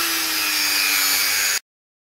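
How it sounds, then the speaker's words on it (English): A Dremel rotary tool carves a moon shape, giving a steady high-pitched whine with a grinding edge that runs unbroken for about a second and a half, then cuts off abruptly into silence. "now I'm about to carve it with a Dremel"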